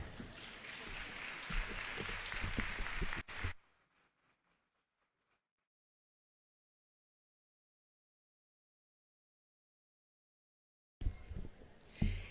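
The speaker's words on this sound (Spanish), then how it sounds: "El aplauso de bienvenida para ella" Welcoming applause for the rector at a school graduation ceremony fills the hall for about three seconds, then stops abruptly. A long near-silence follows before room noise and sound return at the end.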